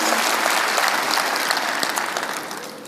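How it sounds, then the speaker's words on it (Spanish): A church congregation applauds, a loud, full wash of many hands clapping together that holds steady and then eases slightly over a few seconds. "Vamos, dale un aplauso al amor de Jesús."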